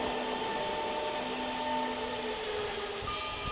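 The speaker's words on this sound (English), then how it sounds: "these are welding pipe and flange" Automatic welding machinery welding pipe and flange in a factory gives a steady, continuous mechanical hum and whir with tonal lines, constant and fairly loud throughout with no voices.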